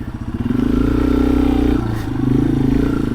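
Loud, close engine drone from a Ducati motorcycle ridden at night, with a rumbling throb whose pitch rises and dips slightly as the throttle changes.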